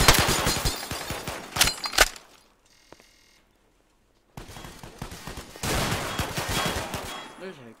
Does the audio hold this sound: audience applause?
no